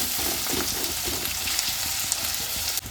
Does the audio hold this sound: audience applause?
no